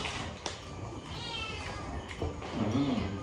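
Cat meowing faintly at a house during dinner, a short rising-falling meow near the end over a steady background hum and light clatter.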